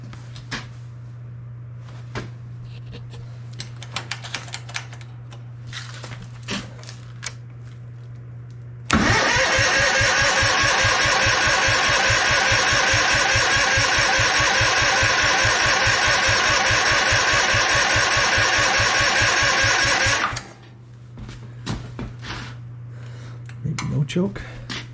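A Sea Horse outboard motor catches and runs loudly with a fast, even chug for about eleven seconds, then cuts out. Quieter sounds come before and after it, and someone speaks briefly.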